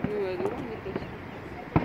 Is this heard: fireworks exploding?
yes